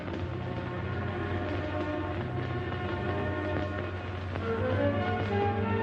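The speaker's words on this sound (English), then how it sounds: "The subway." A subway train rumbles past with a continuous rolling roar and rail squeal, shifting tones toward the end, heard at a moderate distance.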